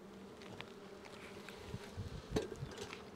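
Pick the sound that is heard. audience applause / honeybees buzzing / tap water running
honeybees buzzing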